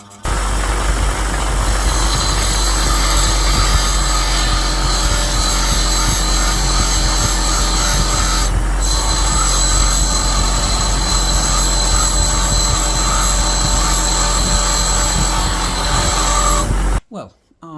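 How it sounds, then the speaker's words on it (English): An angle grinder works at two rusty steel screws on a relic British Lee Enfield rifle butt plate found on the Somme, a loud continuous whine and grating roar with one brief pause midway, then cutting off abruptly. "try and grind off these two rusty steel screws"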